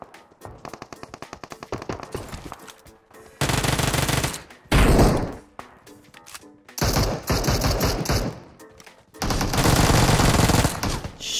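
Bursts of automatic gunfire in a battle royale video game firefight, with rapid rattling volleys alternating with quieter stretches of lighter shots and clatter.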